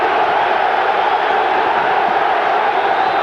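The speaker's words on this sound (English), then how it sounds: "listen to the Juve crowd here, trying to urge on their side" Juventus football crowd in a stadium roaring steadily to urge on their side, a dense, continuous wall of cheering and chanting at an even level throughout.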